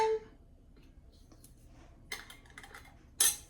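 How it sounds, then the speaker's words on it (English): Metal canning lids and rings set onto glass jars of cherries in a home kitchen give a few quiet, brief clinks in two small clusters, with near silence between them. "I cleaned my lids and my rings. I'm just gonna place them on."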